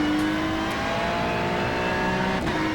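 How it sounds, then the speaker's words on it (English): A Ferrari 296 GT3 race car in iRacing on the Nürburgring Nordschleife, its engine droning loudly and continuously at high revs with a steady, dense tone and a faint tire squeal, no voices. "I'm driving the Ferrari 296 GT3, which is also new in this update."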